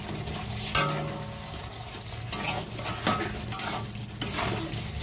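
A utensil stirs and scrapes through chicken korma spices frying in a pan, with steady sizzling and sharp metallic clinks against the pan, close and continuous.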